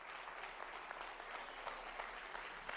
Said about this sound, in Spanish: Un aplauso a los mexicanos.